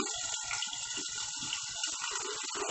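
Water poured steadily from a container into a cooking pan of cauliflower, a continuous close splashing gush lasting a few seconds with no talking.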